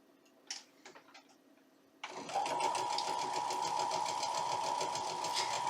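A domestic sewing machine stitching bulky quilt fabric starts after a few faint clicks and handling noises, then runs steadily and loudly with a fast, even mechanical whir and rapid ticking until the end.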